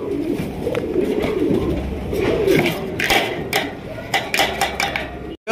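Pigeons coo softly in a low murmur over a busy background, with scattered clicks and knocks throughout and a brief dropout near the end.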